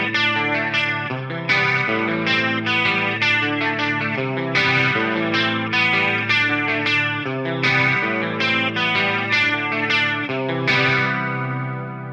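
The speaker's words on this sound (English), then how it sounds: "this is just the bog standard chorus that is on the Helix" Electric guitar through the stock Helix chorus in an Orange Rockerverb 100 style amp tone, playing a steady run of picked chords with a shimmering, warbling modulation and bright sustained overtones, loud and continuous without any voices.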